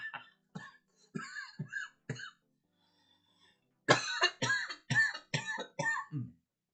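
A person coughs in a string of short, sharp bursts, a few scattered coughs and then a tighter rapid cluster, close and dry with brief pauses between fits.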